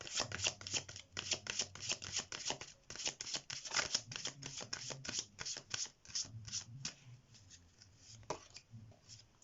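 Tarot message cards shuffled by hand in a run of rapid, close riffling flutters with brief pauses between bursts, steady and fairly loud with no talk.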